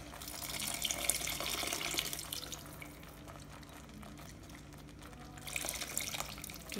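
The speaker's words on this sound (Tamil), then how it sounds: "அந்த புளி தண்ணி ஆட்" Tamarind water poured into a simmering fish curry, a steady liquid splash and trickle that fades midway and returns near the end, close and fairly quiet with no talking.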